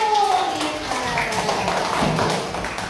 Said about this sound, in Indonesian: Oke, tepuk tangan bersama